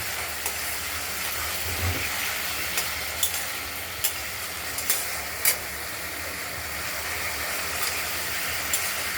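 Ground spice paste sautéing in oil for a fish curry, a constant soft hiss with scattered small pops and ticks, close by with no one talking.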